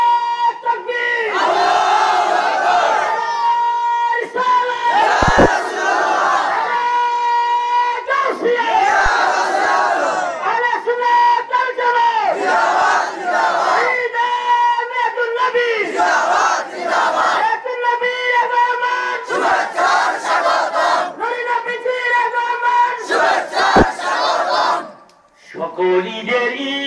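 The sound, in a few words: crowd loudly chanting takbir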